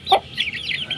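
Young chickens peep in short, bright bursts close up, one louder call followed by a rapid string of quieter, high-pitched cheeps from a group of chicks in a pen.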